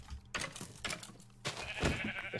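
Sheep in a video game let out a few quiet, separate bleats in quick succession, with nothing else heard around them.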